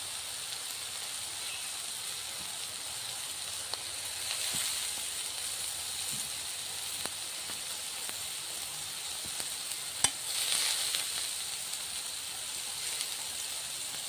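A fish curry with coriander leaves cooks in a kadai, giving a soft, continuous sizzle with scattered faint clicks and a single sharp tap as it is stirred.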